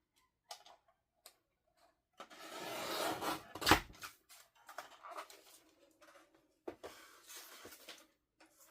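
Scissors trimming a paper Christmas card: a longer rasping cut followed by scattered soft snips and rustles of paper, close and quiet, with no voices.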